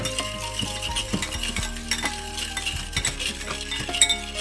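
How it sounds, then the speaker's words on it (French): Egg yolks and sugar are mixed for strawberry tartlets, with a utensil clinking and scraping rhythmically against a bowl, close and unbroken, with no talk. "Je mélange bien."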